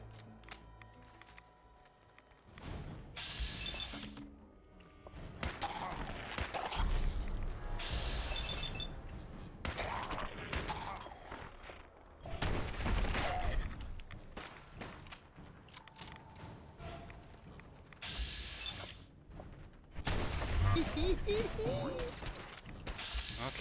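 Fallout 4 gunfire comes in scattered bursts of shots and impacts with footsteps and clinking gear. It stays fairly soft and distant, and someone talks over it throughout.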